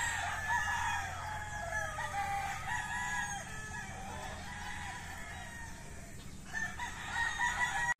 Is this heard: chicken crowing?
yes